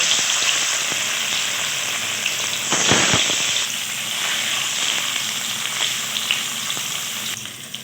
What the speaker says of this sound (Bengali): কড়াইয়ে দিয়ে দিলাম খানিকটা সাদা তেল ও ঘি ও তেল গরম হয়ে এর মধ্যে কুচিয়ে রাখা পনিরগুলো দিয়ে দেবো।